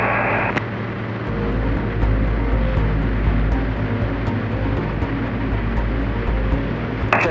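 A small airplane engine drones loud and steady through takeoff and climb-out, a constant close propeller roar with a faint rhythmic ticking above it and no speech.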